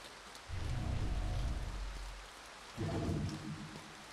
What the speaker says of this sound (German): Ich mag Regen lieber, wenn er durch mich statt auf mich fällt.